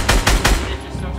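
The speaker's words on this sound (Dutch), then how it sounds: "Waar komen die schoten vandaan?" Gunfire in the video game Fortnite: three quick, loud automatic bursts in close succession, followed by a softer lingering tail.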